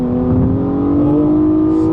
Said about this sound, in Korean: 이게 회전이 올라가는 질감 자체가 VQ 엔진의 회전 질감 자체는 워낙 정평이 나 있는 그런 엔진이죠